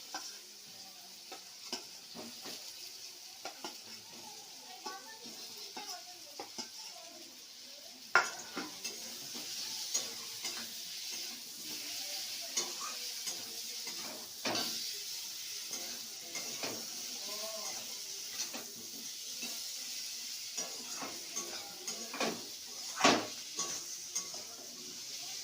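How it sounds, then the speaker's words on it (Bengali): Potatoes frying and being stirred into a cooked-down spice paste in a pan, with a steady soft sizzle under repeated scraping stirs and occasional louder clinks of a utensil against the pan, no talking. "মশলাটা কষানো হয়ে গেছে, এবার আমি আলুগুলো দিয়ে দিচ্ছি।"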